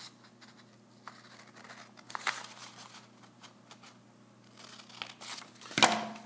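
Scissors cut through a sheet of paper for an origami terrarium with soft, scattered snips and crinkles, then a louder rustling snip near the end, heard close and quiet.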